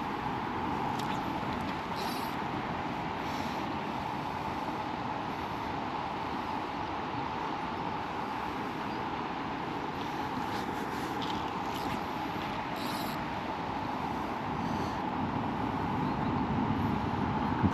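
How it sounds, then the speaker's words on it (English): Steady broadband rumble of road traffic from a main road a couple of hundred yards away, heard continuously from a riverbank in South Wales, with faint wind and occasional light clicks over it. "Probably hear the traffic."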